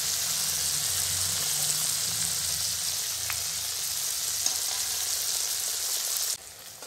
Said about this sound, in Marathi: तर आता आम्ही ह्याच्यात ॲड करतोय फिश तळतोय.